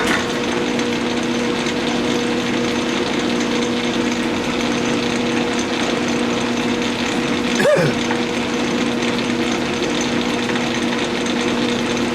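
A metal lathe knurling a knob runs with a steady, even machine hum close by, with one brief squeak-like blip partway through, no talking.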